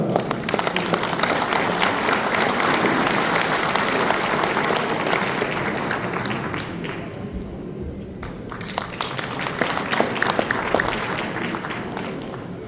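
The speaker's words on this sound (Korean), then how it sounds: "큰 박수로 환영해 주시기 바랍니다." Sustained applause from an audience at a Korean Presbyterian men's fellowship national convention, dense steady clapping filling the hall for about eight seconds, then thinning slightly while continuing to the end.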